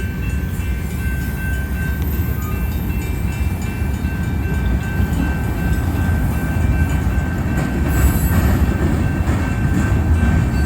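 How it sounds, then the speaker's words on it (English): Union Pacific manifest freight train led by UP 8860 rolls past at close range, a steady loud rumble of wheels and cars that swells slightly as it picks up speed. "it looks like the train's now starting to pick up speed a lot more"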